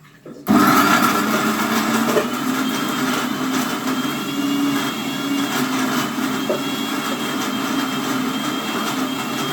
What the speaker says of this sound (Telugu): కొన్ని వాటర్ మిక్స్ చేసుకొని మిక్సీ అయితే పట్టేసుకోవాలి